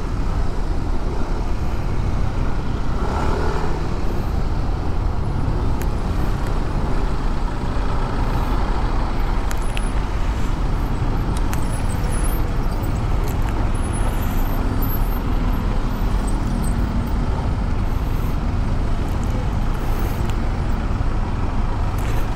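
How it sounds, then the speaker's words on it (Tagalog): Heavy traffic on the Ortigas flyover with trucks and buses, a dense, continuous roadway roar of engines and tires that stays loud and steady throughout, with occasional air-brake hisses and no talking. "Grabe yung traffic hanggang doon sa kabila."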